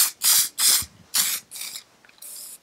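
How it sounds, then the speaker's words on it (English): An aerosol can sprays etch primer onto a metal panel in five sharp bursts of differing length, with gaps of near silence between them and a final brief hiss. "So a quick squirt of etch."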